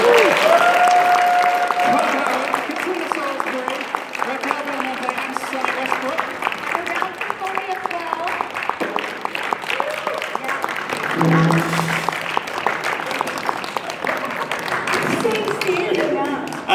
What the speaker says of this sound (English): let's have another huge round of applause for our guests of honor